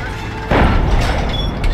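A 105 HE artillery round fires in a WWII video game set at Bourguébus: a single deep, heavy boom hits about half a second in, then a rumbling tail over faint background noise.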